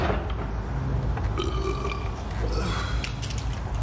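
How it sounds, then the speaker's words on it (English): A long, loud, gravelly burp rumbles on for several seconds after eating an onion roll, heard close up and alone. "The roll I had for dinner made me do onion burps"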